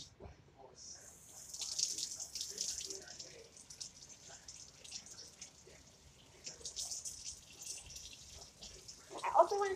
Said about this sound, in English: I'm gonna take you over here to wash this again, which is my job